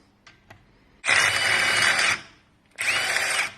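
A power tool spins out a hex 17 bolt on an Audi TT during inner CV boot work, two close whirring bursts of about a second each with a short pause between.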